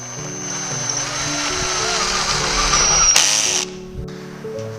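Power tool cutting furring strips for interior window trim in a tiny house build, a loud continuous whine that builds steadily, then changes pitch and drops off sharply near the end.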